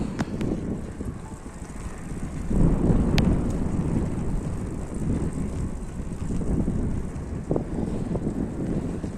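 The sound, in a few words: wind blowing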